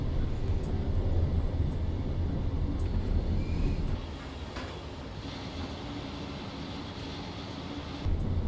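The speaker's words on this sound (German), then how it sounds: "Da kommt der nächste Zug rausgefahren." A passing train in the Train Simulator 2022 game, a steady loud rumble and rail roar that drops to a lower level partway through, then swells again at the end, with no voices.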